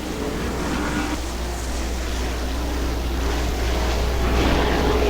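Sprint cars race around Butler Motor Speedway in a dirt-track qualifier, a steady, dense engine roar with wind-like wash holding loud and constant throughout, no voices.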